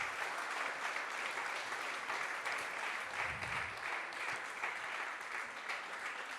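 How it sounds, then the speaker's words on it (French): A conference room full of people applauds in a continuous, even wash of clapping, moderately distant, with no voices over it. "on peut les applaudir."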